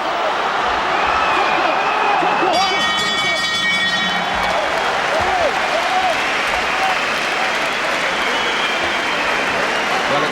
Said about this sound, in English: the crowd appreciating this work from Eubank, shouting out his name